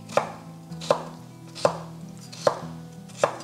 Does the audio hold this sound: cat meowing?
no